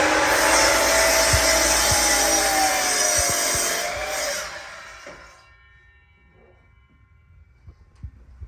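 A power saw cuts 10-inch wooden legs for a van bed build with a loud, steady whine lasting about five seconds, then stops, leaving quiet knocks and handling of the wood.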